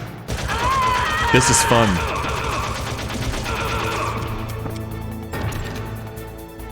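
Dense bursts of gunfire from the Metal Gear Solid video game on Extreme difficulty, with rapid automatic fire and loud shots running throughout over a continuous game soundscape while a voice talks on top.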